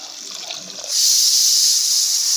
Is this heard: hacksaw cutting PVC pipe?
no